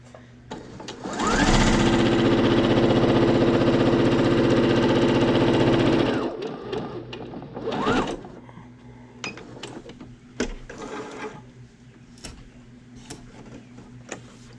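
A home sewing machine stitches a hem on a fabric face mask, running in a loud steady mechanical whir for about five seconds, then stopping, followed by scattered clicks and handling sounds.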